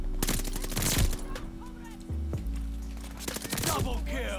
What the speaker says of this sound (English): Death machine is ready to fire.